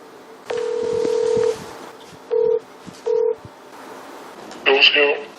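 A phone dials out to reach the owner of a new Kia Seltos: a long steady tone followed by two short tone bursts and then a brief chirpy signal, clear and close.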